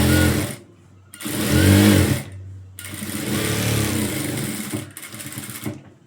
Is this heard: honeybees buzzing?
no